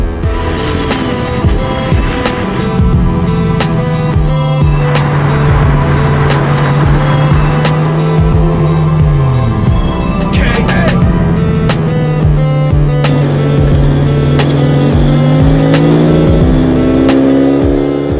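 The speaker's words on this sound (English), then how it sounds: "this is my RX-7" A Mazda RX-7 built from scratch and sitting low drives loudly and steadily close by, its engine droning with shifting pitch and tires squealing, with background music throughout.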